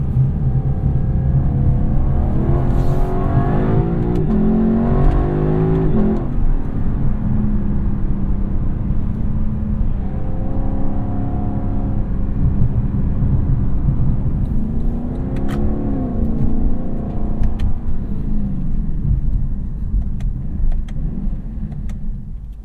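A 2018 Lexus LC 500 engine blips through a downshift into first gear and revs, a loud, close throaty roar that swells and falls in pitch over a steady rumble, with no talking.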